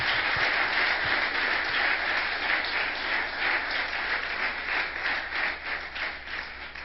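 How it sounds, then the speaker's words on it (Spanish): A church congregation breaks into sustained applause during a Spanish-language service, a dense steady wash of many hands clapping that holds at an even, fairly loud level throughout, with no talk over it. "Denle un aplauso más fuerte al Señor"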